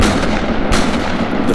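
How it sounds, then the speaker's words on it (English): A gunshot sound effect in a creepypasta horror narration lands as a loud, close, booming blast, with a brief sharp burst standing out from a dense, rumbling noise wash and no voice over it. "I pull the trigger."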